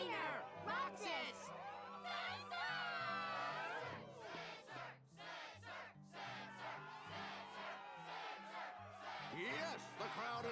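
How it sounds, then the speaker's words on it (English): Crowd in the Kingdom Hearts II video game cheering and shouting continuously, a lively roar of many voices layered over steady game music, loud throughout with small dips and swells. "Yes, the crowd is fired up"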